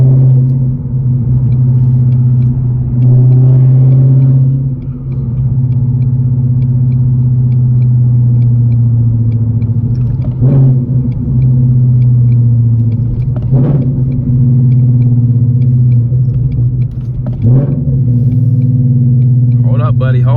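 Gen 3 Ford Mustang Coyote V8 rumbles steadily from inside the car while driving, a loud continuous low drone with brief dips and small surges; voices talk intermittently over it.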